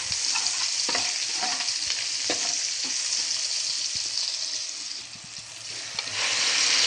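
Shrimp frying with garlic in a pan for a shrimp with egg dish, a steady close sizzle punctuated by scraping stirs, with no talk.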